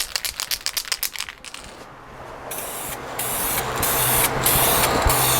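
A spray gun lays a flash coat of clear finish onto a guitar in steady bursts of hissing spray, each bursting on and cutting off, after a run of quick rhythmic clicks at the start.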